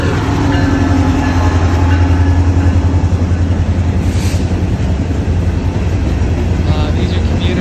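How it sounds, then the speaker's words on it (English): A commuter train rolls past close by with a loud, continuous rumble and clatter of wheels on rails, filling the whole stretch. "These are commuter trains."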